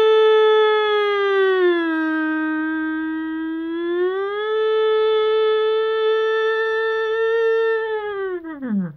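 A voice imitates a tornado siren with a long, sustained wailing tone that rises, holds, then slides sharply downward as it dies out at the end.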